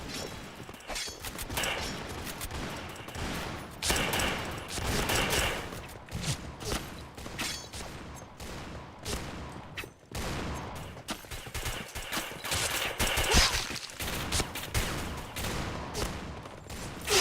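Constant heavy gunfire in a shooter video game, overlapping rapid bursts that keep going for the whole stretch at close, steady loudness.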